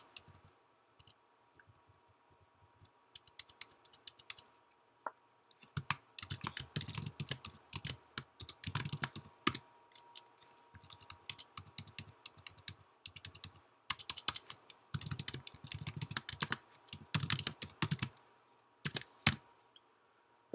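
Computer keyboard typing as program code is entered, with quiet, close key clicks, sparse at first and then in steady, uneven runs over a faint background hum, with no talking.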